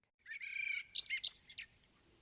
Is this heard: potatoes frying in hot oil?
no